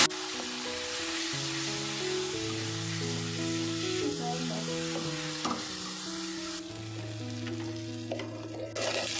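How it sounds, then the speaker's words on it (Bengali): Ground spices including coriander powder are sautéed together with mutton for Golbari-style kosha, giving a continuous sizzle under a backdrop of steady musical tones. "দেখো সব মশলাগুলো একসাথে ভালো করে কষানো হচ্ছে"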